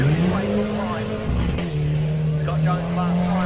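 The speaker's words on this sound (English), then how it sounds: "Anti-lag on. You can hear the car previously owned by Regan Ross." A Mitsubishi Evo 8 rally car with anti-lag roars through a forest rally sprint stage, engine note dipping then rising again with a sharp crackle midway, heard under a commentator talking.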